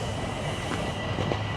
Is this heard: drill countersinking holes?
no